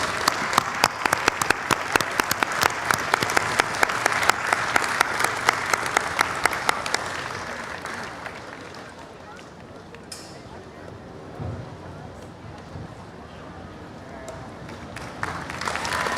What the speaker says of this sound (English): Big round of applause, well deserved